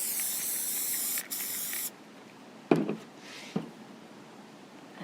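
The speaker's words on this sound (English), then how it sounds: "I'm going to go back through and spray a little, a heavier layer so that it sticks more." A spray can lays a heavier coat of adhesive onto fabric for a school cone: a sustained hiss, a brief gap, a second shorter hiss, then quieter handling taps and rustles nearby.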